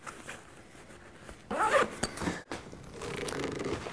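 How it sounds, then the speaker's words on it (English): A zipper on the small parent pouch of an Alvema Pixi special-needs stroller canopy is pulled open in one quick rasping run, close and clear, followed by faint handling rustle with no talking. "Has a little parent-friendly zipper pouch up here."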